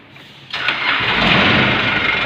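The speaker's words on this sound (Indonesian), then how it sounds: "Coba dah kita hidupin." A car engine cranks briefly and catches, then settles into a loud, steady idle heard close up.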